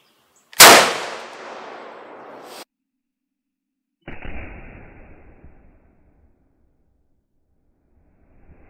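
A 7mm Magnum or .300 Win Mag rifle fires once at flour bags, a loud sharp blast with a long decaying echo, followed after a pause by a second softer impact-like burst that fades out.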